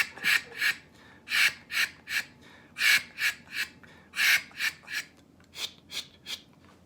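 Duck call blown by a California competition caller in repeated three-note cadences, each a short raspy burst of quacks with brief gaps, close and clear with no talking.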